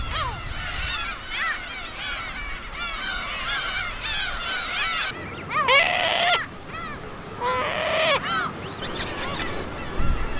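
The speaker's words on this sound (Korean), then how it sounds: "지금은 괭이 갈매기도 사냥을 위해 긴 시간을 내기 힘든 번식기." Black-tailed gulls call in a breeding colony by the sea, a dense chorus of overlapping honking, nasal cries with louder close calls standing out near the middle and end.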